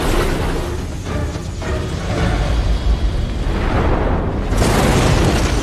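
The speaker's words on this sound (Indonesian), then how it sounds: "ledakan sangat dahsyat." A huge, roaring explosion from the martial arts film Jade Dynasty, with heavy low rumble and dense crackling that swells and stays loud throughout.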